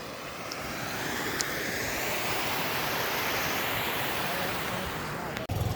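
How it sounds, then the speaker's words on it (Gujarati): Floodwater from two days of unbroken heavy rain in Mahuva, Gujarat rushes in a loud, unbroken roar of churning water that holds steady throughout before a sudden brief dip and thump at the end. "એટલું પાણી આવી ગયું કે આ બધું ધોવાઈ ગયું"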